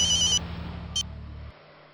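A telephone ringtone heard while a call is being placed: a few short, bright electronic ring bursts over a low hum, which stops abruptly.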